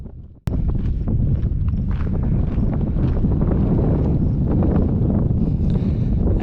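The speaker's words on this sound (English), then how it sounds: "it can be rather windy out here." Strong wind buffets the microphone in Badlands National Park in South Dakota, a loud continuous rumbling roar that begins abruptly and persists without letup.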